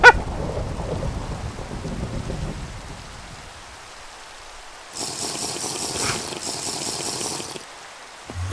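Thunder rumbles low and heavy for a few seconds inside a video game, fades to a quiet lull, then gives way to a burst of brighter, harsher storm noise.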